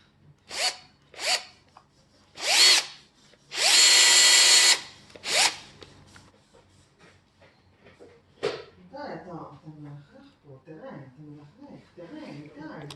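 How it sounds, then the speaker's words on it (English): A power drill drives screws into a flat toy ride-on car tire in several short bursts and one longer run, loud and close, followed by quieter clanking and rubbing sounds. "We just drill the entire flat tire."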